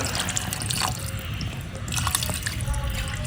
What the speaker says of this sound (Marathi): त्याला आता याच्यामध्ये पाणी टाकायचं आहे